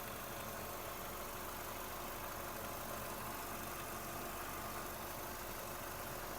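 A 2007 Volkswagen Golf 5 with a 1.6 MPI petrol engine idles with a steady, even hum and faint vibration, continuous and unchanging throughout, with no voices.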